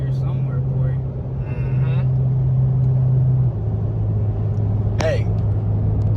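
Car fitted with an axle-back exhaust driving on the road, a steady loud engine drone throughout with a brief higher rise near the end, close and continuous under occasional faint voices.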